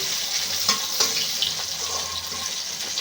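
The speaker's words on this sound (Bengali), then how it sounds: "সব মাছগুলো ভেজে নেব।" Pieces of silver carp fish fry in hot oil in a village kitchen, a loud, steady hiss and crackle throughout with a few sharper pops, and no voices.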